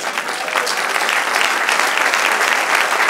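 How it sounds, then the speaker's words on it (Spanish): Steady applause from an audience, dense clapping filling the whole moment at an even, loud level. "Denle un aplauso al Señor."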